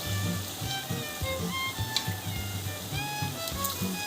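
Murukku dough for Diwali fries in hot oil, giving a soft, steady sizzle with small crackling bursts. It is heard alone, fairly quiet and close.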